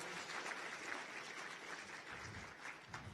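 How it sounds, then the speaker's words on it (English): Audience applause for the three Masters of Ceremonies at the AVI Afrique Innovation Summit, a steady, dense wash of many hands clapping that stays even and fairly quiet throughout, with no voices over it. "A round of applause for those."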